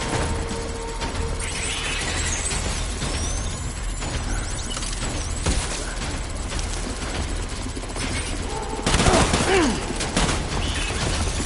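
Dense gunfire rages in the video game Death Stranding, a continuous loud volley of shots over battle noise, with a sharper burst of firing near the end; shouting voices are heard in the mix.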